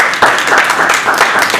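A conference audience breaks into applause for the panelists, a dense, even wash of many hands clapping at close range for a brief moment.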